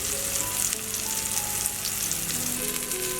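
Seekh kebabs fry on a tawa over a low flame, giving a steady, close sizzle that runs unbroken throughout, with faint tonal hum underneath and no voices.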